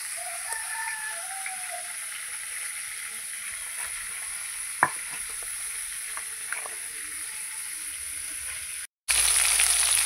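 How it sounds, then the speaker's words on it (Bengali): Fish heads frying in oil in a pan give a steady, moderate sizzle throughout, with a few sharp crackles and small spits, ending in a brief louder burst. "প্রথমে মাথাগুলো ভেজে নেব"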